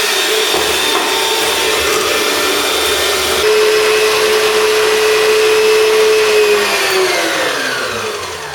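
An electric mixer whisks génoise batter with sugar, a steady loud whirring drone held unbroken throughout, its pitch sliding down slightly near the end as the speed drops.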